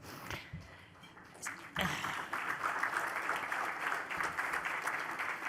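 Applause at an assembly program, starting with scattered claps and a brief voice, then swelling into a sustained, moderately distant wash of clapping from a large audience.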